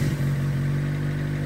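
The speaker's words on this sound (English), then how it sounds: "So the engine here is on my car now, ready to be started up." A Honda D16A6 VTEC engine installed in a car idles close by with a loud, steady hum and a slight stumble at the start, without any clear revving.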